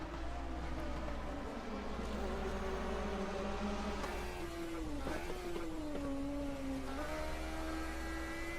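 Onboard sound of a 1980 DRM Division 2 racing car at the Mainz-Finthen airfield race, a steady engine drone whose pitch climbs and dips with gear changes and wheelspin, fairly faint, with no voices.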